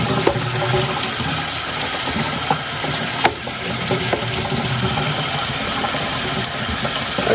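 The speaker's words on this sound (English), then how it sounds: "spraying it off in the sink here. I do that a little bit, get a little harder flow of water on it there." Water from a sink faucet sprays onto a washable Nuwave air purifier filter, a loud continuous hissing rush with occasional splashes and shifts in flow, alone without talk.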